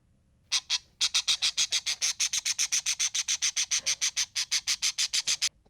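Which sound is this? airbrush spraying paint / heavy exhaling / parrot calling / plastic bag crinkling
parrot calling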